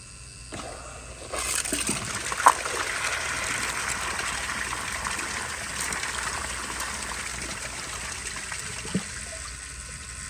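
A miniature 10-inch prototype Berlin toilet flushes with a steady rush of water that swells after a second and runs continuously, close and fairly loud, with a couple of brief clinks.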